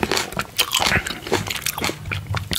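Sweet black sable grapes from South Africa are bitten and chewed close up, giving repeated crisp crunches and juicy chewing sounds in quick succession.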